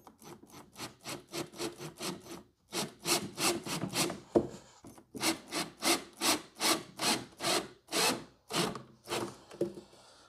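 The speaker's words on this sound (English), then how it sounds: "We're going to screw this into place." A screw is driven into wood while a bar is built from an old desk, heard as a close, rhythmic run of short grinding bursts that bite in, pause briefly, then continue in evenly spaced pulses.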